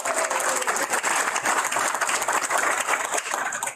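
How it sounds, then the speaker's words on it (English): Audience at an airport week proclamation signing applauding: dense, steady clapping from many people fills the whole stretch at full strength, then tapers only at the very end. "Let's give you all a round of applause."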